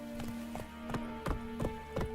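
Roach the horse trots in The Witcher 3, hooves clip-clopping in a steady, evenly spaced rhythm of about six hoofbeats. A low musical drone hums beneath the fairly quiet footfalls.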